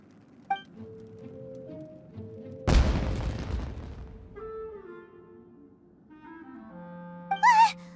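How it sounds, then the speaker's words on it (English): A single loud firework blast in Genshin Impact, a deep boom with a long rumbling decay, set among soft game music tones and a brief high chime at the end. "Was that an explosion? It sounded like fireworks."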